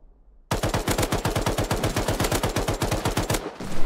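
An HMLmg light machine gun firing in Rust: a loud, close, sustained automatic burst of about three seconds with rapid, evenly paced shots, starting abruptly after a quiet moment and cutting off before some trailing noise.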